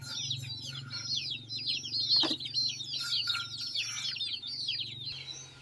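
Chickens cluck and chirp continuously near a pond coop, a busy layered chatter with a brief knock in the middle.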